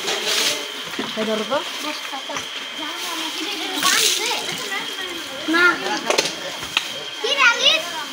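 Water splashes in bursts over a cow being washed outdoors for Eid ul-Adha, with sloshing throws of water amid excited children's voices and nearby chatter.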